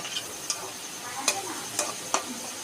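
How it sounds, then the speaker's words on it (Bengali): Potatoes frying in a pan with black cumin and bay leaves, being stirred: a soft continuous sizzle broken by four or five crisp spatula clicks and scrapes, fairly quiet and close, with no speech. "এখানে আমার আলুগুলো প্রায় ভাজা হয়ে গিয়েছে"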